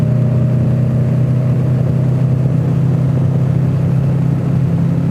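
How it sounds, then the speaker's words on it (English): Diesel excavator engine idling steadily at a construction site with bulldozers and skid steers, a loud continuous low rumble close by with no talk. "There's another excavator."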